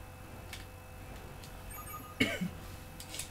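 A person coughs once, briefly, close to the microphone during a NieR Automata speedrun, against a quiet background with faint ticking.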